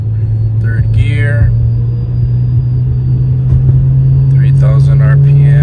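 A tuned single-turbo car pulls in third gear with a steady, loud engine drone that swells slightly toward the end, while brief voices talk over it.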